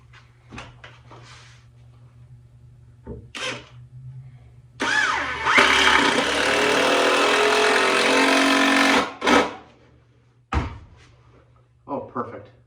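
A power drill drives a 3-inch deck screw into a wooden chair leg in one loud, sustained whirring run of about four seconds, with scattered knocks and handling sounds before and after.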